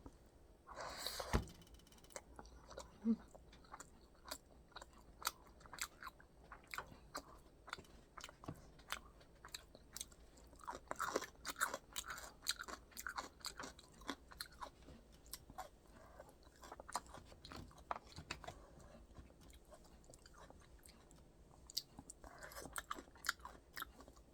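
Crunchy spicy food is chewed close to the mic, with steady soft crunches and bites repeating for over twenty seconds, quiet and with no talk.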